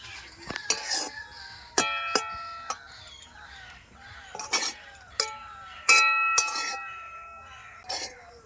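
A spoon scrapes and clinks against a pan while grated ginger and turmeric are stirred into an amla pickle, sharp metallic ringing taps at irregular intervals over quiet sizzling background.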